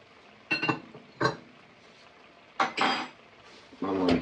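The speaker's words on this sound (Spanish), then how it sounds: "Vamos a mezclar la crema con la salsa" Spoon or utensil clinking against a pan while cream is stirred into a seafood sauce for spaghetti, in a few sharp, separate knocks and scrapes, close and fairly loud, with no talking.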